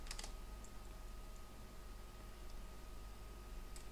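Keys on a computer keyboard give a few quick clicks at the start and then occasional faint isolated taps over a steady low hum in a quiet room.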